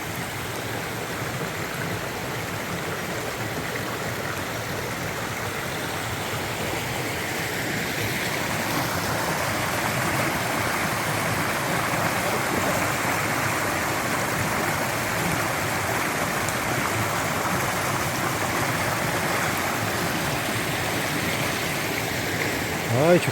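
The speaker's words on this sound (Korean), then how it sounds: "간만에 물소리 힐링 된다." Steady rushing of a mountain stream in a valley, flowing water close and continuous, growing slightly fuller midway, with faint voices in the background.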